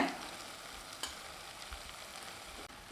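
A spoon scrapes through cooked parboiled rice being mixed into tomato rice in a pan, with soft sizzling and occasional light knocks, faint and close with no talking.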